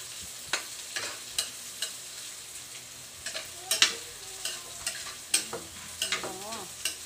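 Tomatoes fry with onions in hot cooking oil, a steady sizzle under repeated clinks and scrapes of a spatula stirring the pan, irregular and close, with no speech.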